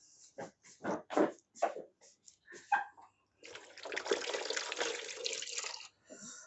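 Peaches are washed at a sink: a few short splashes and knocks first, then a few seconds of steady running tap water pouring over the fruit, close by.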